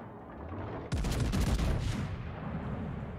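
Heavy naval gunfire from a warship in the video game War Thunder: a loud burst of several rapid booming shots, then a rumbling tail that slowly fades.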